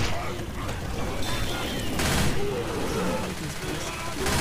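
Gunfire fills a Left 4 Dead 2 match with rapid, overlapping shots in dense bursts, loud and continuous alongside other game effects.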